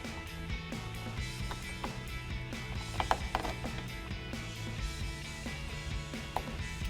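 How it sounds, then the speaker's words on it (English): Ratchet wrench tightening 7mm bolts along the top of a 2018-2023 Ford Mustang GT front bumper, a steady run of fast metallic clicking with a few sharper ticks, close and moderately quiet with no talk. "Now we can go ahead and put our 8 bolts across the top of our bumper here, starting on the ends with our 2 7mm."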